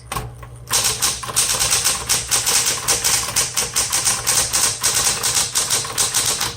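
A red 1960s Smith Corona Electra 120 electric typewriter being typed on quickly, a dense, continuous patter of sharp key strikes over a faint motor hum, close up and without speech.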